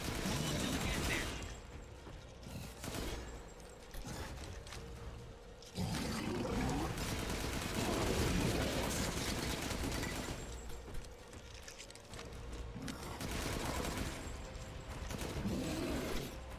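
Rapid bursts of gunfire in the video game Resident Evil Village, sustained and dense across most of the stretch with brief lulls, mixed with game noise and an excited voice.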